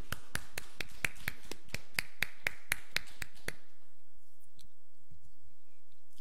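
A congregation at a Korean church Sunday worship service claps in a steady, quick rhythm, about fourteen crisp, close claps in unison, then falls quiet.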